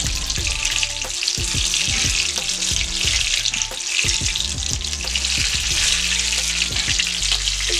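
Thanksgiving egg rolls frying in oil, a dense, loud bubbling crackle that stays busy and steady throughout with no voices.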